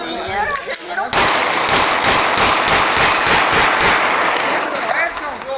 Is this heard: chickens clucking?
no